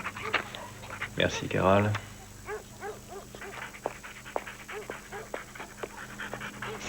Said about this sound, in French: t'es un bon vieux toutou